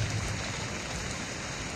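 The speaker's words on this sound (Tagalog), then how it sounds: "Ulan pa." Steady rain falls outdoors, a dense continuous hiss of drops hitting surfaces, even and fairly loud throughout with no voices.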